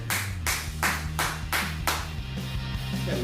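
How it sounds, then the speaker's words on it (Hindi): Six or seven loud, sharp hand claps come in an even rhythm close by, then stop, leaving a low steady hum. "ऐसे जोर से ताली बजाते हैं।"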